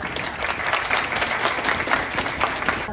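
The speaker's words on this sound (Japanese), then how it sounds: "皆さんの盛大な拍手をお願いいたします。" Audience applause at the 2024 Yamaguchi esports festival in Shunan, following the players' oath at a Gran Turismo competition; steady, dense clapping from a large crowd fills the hall for the full stretch, with no talk.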